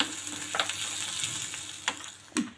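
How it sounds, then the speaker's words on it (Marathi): A paste of green chili, mint and coriander sautés in a pan with a continuous soft sizzle, broken by occasional stirring scrapes near the end. "हिरवी मिरची, पुदिना आणि कोथिंबीरीचं जे वाटण केलेलं आहे ते, आणि ह्याला छान परतून घ्यायचं"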